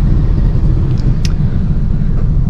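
A 2019 Honda Brio E four-cylinder engine heard from inside the car while driving, a steady, smooth low rumble with even road noise throughout.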